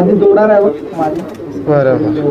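Pigeons coo nearby in soft, throaty, rolling calls, two or three phrases in quick succession, loud and close.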